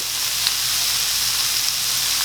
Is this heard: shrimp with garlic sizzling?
yes